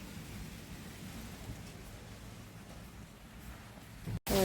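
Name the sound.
rain during an unseasonal storm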